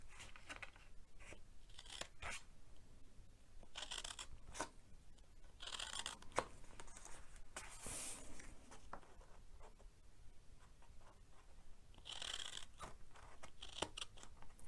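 Quiet, close snipping of scissors through paper, several short cuts spaced irregularly with soft rustling between them.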